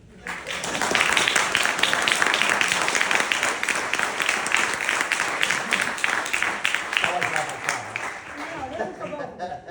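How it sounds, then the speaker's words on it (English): An audience at a New York State Assembly District 21 candidate forum applauds steadily, many hands clapping in a dense wash that holds for several seconds and thins toward the end. "Now we applaud."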